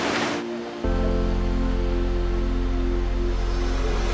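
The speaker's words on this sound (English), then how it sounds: "That is one huge and very beautiful waterfall." Joren Falls in Shizuoka, Japan pours in a steady, loud, broadband roar of falling water that sets in abruptly and continues unbroken with no voices.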